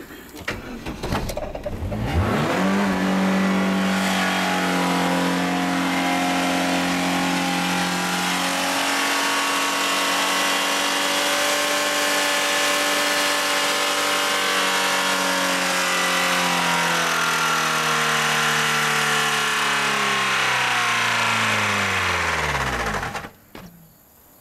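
A manual-transmission car engine, later prone to catching fire, cranks briefly then catches and runs, settling into a loud sustained drone whose pitch slowly shifts before cutting off abruptly near the end.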